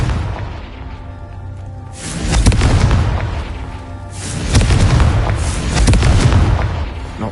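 Two heavy booming blasts from a Confringo blasting curse in the game Hogwarts Legacy, each a loud, broad burst with a rumbling tail, spaced a couple of seconds apart.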